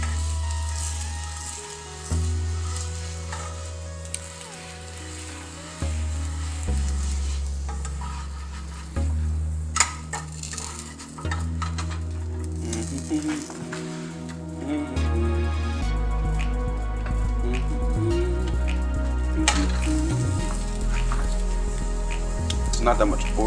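A tortilla fries in oil in a pan with continuous crackling sizzle and occasional pops and scrapes, joined by a low, uneven hum, and someone talks over it throughout.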